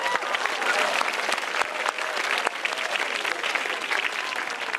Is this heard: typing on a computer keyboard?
no